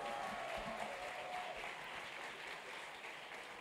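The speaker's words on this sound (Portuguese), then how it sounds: "uma salva de palmas para os nossos astros." Audience members at a hypnosis show clap together in sustained, fairly soft applause that gradually eases off, with a faint tonal hum early on.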